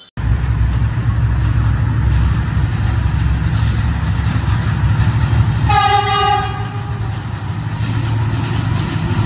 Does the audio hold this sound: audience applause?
no